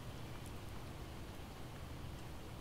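Steady rain in the video game Project Zomboid, a faint, continuous even hiss of falling drops with no other sounds.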